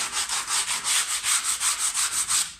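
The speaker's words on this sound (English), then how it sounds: "Clean it all up with a bit of sandpaper." Sandpaper rubbed back and forth along the cut edge of a laminate kitchen worktop, a steady rhythmic scratching of about a dozen close, even strokes with no talking.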